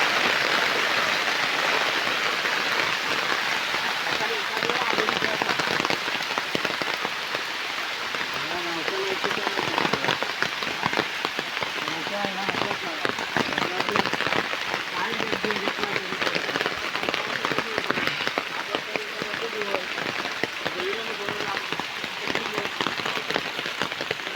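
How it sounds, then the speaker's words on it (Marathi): Steady heavy rain pours down in a dense hiss, with voices talking faintly underneath throughout. "छान छान भरपूर मोठा पाऊस आलेला आहे."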